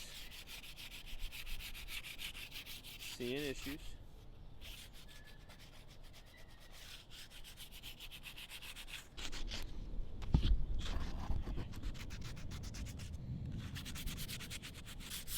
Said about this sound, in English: We're going to start off with the roughest, just sanding along